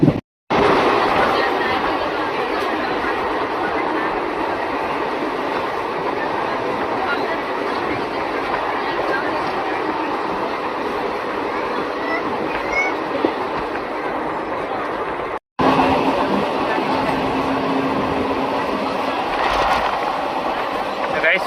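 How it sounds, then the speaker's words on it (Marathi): Heard from inside a moving passenger train after leaving Kelve Road, a steady, loud rumble and rattle runs for about twenty seconds, with voices faintly underneath. "आम्ही ट्रेनमध्ये चढलो आहे आता."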